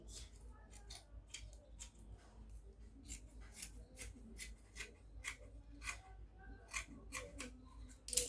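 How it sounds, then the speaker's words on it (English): Scissors snip through dress fabric for an off-shoulder pencil gown, a quiet, steady run of crisp close-up cuts in an even rhythm over faint background hum. "So I'm just going to go ahead and cut this out."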